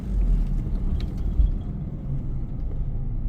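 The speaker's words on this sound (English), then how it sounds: "I'm gonna go ahead and mash over these speed bumps here" A 2000 Honda Civic Si rolling over speed bumps, with a low, steady interior rumble of road and engine noise and a couple of faint dull thumps, no one talking.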